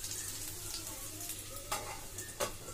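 Potato pieces frying in a pan, a continuous soft sizzle with a few louder stirring scrapes near the end, close and steady without talk.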